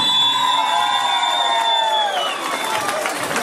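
Wedding guests cheer and whoop with scattered clapping, lively and close for a few seconds before it fades slightly.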